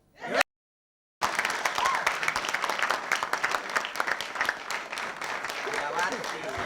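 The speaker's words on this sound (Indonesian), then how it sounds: "Kita beri tepuk tangannya." Audience applause on an Indonesian TV comedy quiz show, a sustained wash of many hands clapping that starts abruptly after a short gap and holds steady, moderately loud, with a slight crowd murmur underneath.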